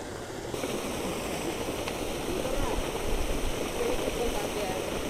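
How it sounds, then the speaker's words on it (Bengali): Seven Sisters Falls in Cherrapunji, Meghalaya sends up a steady, broad roar of falling water, heard from a distance and unbroken throughout, with a voice speaking over it. "ঝর্ণার যে গর্জন সেটি কিন্তু শুনতে পাচ্ছেন।"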